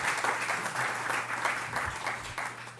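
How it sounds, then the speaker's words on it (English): A conference audience gives a round of applause, a dense, moderately distant wash of many hands clapping that fades slightly toward the end. "Can we start with another encouraging round of applause?"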